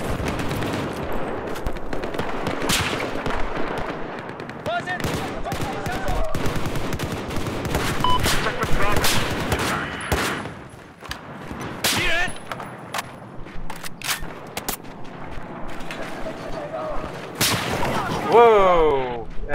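Dense gunfire from rooftop shooters in Battlefield 4 multiplayer on the Shanghai map: rapid automatic bursts and sharp single shots crack almost continuously for the whole stretch, loud and close, with a voice talking underneath.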